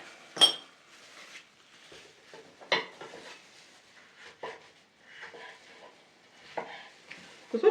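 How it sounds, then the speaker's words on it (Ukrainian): Knife chopping bell pepper on a cutting board, a series of irregular sharp thuds with occasional clinks, fairly close and clear, no voices. "А тим часом я наріжу перець."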